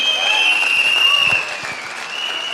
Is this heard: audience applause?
yes